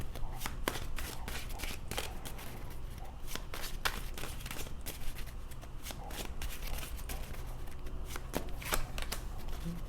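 Tarot cards shuffled by hand in a steady run of quick crisp riffles and soft slaps, close and continuous for about ten seconds with no voices.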